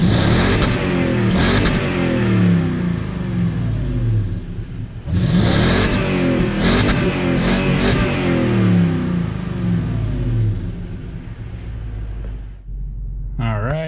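A 2019 Toyota Sequoia TRD Sport engine revving loud and close while power braking, rising and falling roars in repeated surges before the revs drop off near the end.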